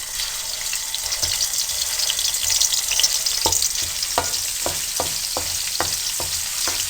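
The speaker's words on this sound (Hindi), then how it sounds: "इसको गरम करें और इसमें लहसुन पेस्ट डाल दें। बिस्मिल्लाह। इसको हल्का सा पका लें।" Garlic paste fries in hot cooking oil for an egg and potato bhujia. A steady, loud sizzle runs throughout, broken by several sharp clicks and scrapes of stirring, and no one talks.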